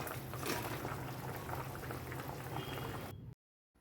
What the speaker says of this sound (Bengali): বড়াগুলো দিয়ে দু মিনিটের জন্য হাই ফ্লেমে রান্না করে নেব